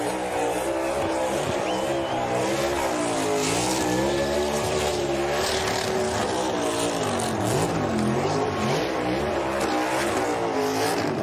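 A NASCAR race car doing a victory burnout, its engine roaring at high revs with wavering pitch and tires squealing continuously, loud and sustained throughout.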